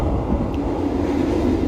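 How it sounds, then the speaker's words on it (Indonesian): Motis Selatan passenger train on a Madiun to Jakarta run via Bandung, heard as a steady, loud low rumble of wheels on rails with a constant roll and no speech. "kita nikmati perjalanan kereta api Motis Selatan pada perjalanan kali ini dari Madiun ke Jakarta lewat Bandung full trip."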